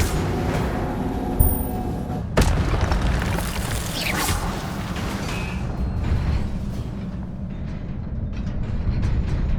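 Spell blasts and booms in Hogwarts Legacy, including fire and levitation spells, heavy thumping impacts with creaking mechanical rumble over a constant dense game soundscape, loud and close.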